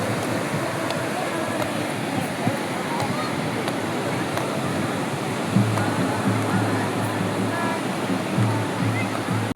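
Sea waves wash onto the shore at a coastal immersion ceremony, a steady broadband roar of surf that stays loud throughout, with a voice speaking over it in the second half.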